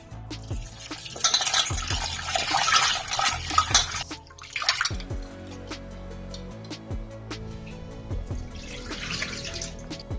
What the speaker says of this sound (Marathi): आता 4 वेळा पाण्यात धुवून घ्यायचे।